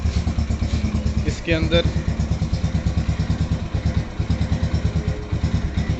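A Yamaha 125 Z motorcycle idles just after starting, a close, steady single-cylinder putter with even rapid pulses, while someone talks over it.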